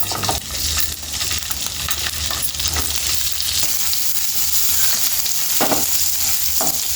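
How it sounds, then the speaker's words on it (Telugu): Oil frying in a pan while cooking tomato chutney, with a steady loud sizzle and crackle, plus a few sharp metallic clinks of stirring. No voices. "ఇప్పుడు సరిపోయినంత కొంచెం ఆయిల్ ఇప్పుడు వేపుకుందాం."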